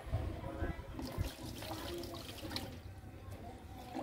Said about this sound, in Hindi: चलो हम इसमें अभी पानी डालते हैं